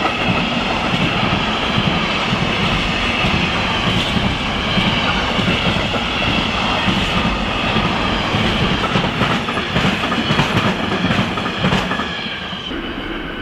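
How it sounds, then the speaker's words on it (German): Railway wheelsets clatter rhythmically over turnout frogs as a train runs past, a loud continuous rumble with repeated metallic clicks and faint wheel squeal, with no talking. "Ah, ich liebe dieses rhythmische Scheppern von Eisenbahnradsätzen auf weichen Herzstücken."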